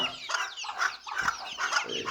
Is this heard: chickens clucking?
yes